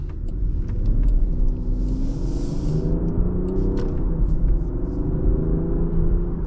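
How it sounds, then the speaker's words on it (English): Exhaust note of a big car accelerating, heard from inside the cabin: a steady deep rumbling drone that rises in pitch as the engine revs, close and continuous with no talk. "the exhaust sound that you hear on the inside of the car sounds really good for being such a big car"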